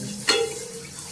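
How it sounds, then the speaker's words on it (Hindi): Water gushes from a tap after a pump motor starts, a sudden splashing burst followed by a steady running stream at moderate loudness, with no speech. "पानी आया।"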